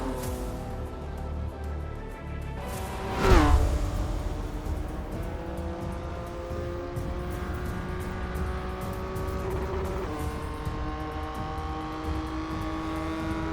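Race car at speed around Interlagos in iRacing, a continuous engine whine climbing and dropping through gear changes, with a sharp burst of nearby noise early on, then steady droning revs.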